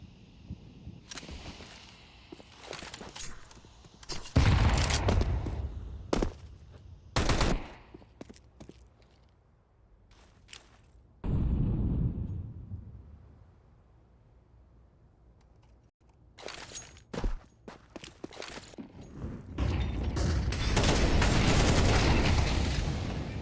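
Gunfire bursts from a Counter-Strike match on the Mirage map, with sharp shots and rapid volleys recurring throughout, including a long sustained loud stretch near the end and quieter gaps between.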